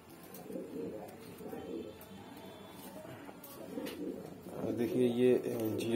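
Soft, low cooing of a female pigeon murmurs close by, with a louder burst of cooing near the end, partly under a voice.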